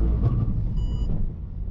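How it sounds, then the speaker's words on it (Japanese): A Honda CR-Z makes a sudden braking stop on a downhill public road on poor tires: a heavy road rumble, a brief high squeal from the tires, then a fading rumble as the car slows. "ちょっと急ブレーキテストするわ。"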